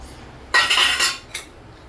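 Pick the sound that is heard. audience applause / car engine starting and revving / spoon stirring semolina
spoon stirring semolina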